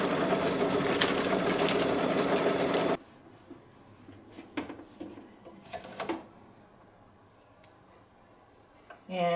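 An embroidery machine runs a placement stitch for a Kimberbell Relish design, a loud steady mechanical whir for about three seconds that then stops, leaving a quiet room with a few light clicks and taps.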